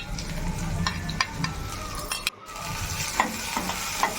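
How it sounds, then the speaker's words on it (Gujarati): Chopped onion and green chillies fry in oil for poha, a steady close sizzle broken by occasional scraping stirs of a spoon against the pan. "બરાબર તેલમાં થોડુંક ફ્રાય થઈ જાય પછી લીલા મરચાં નાખીએ"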